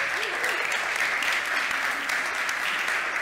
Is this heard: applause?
yes